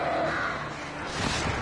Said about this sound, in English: Birds are the worst.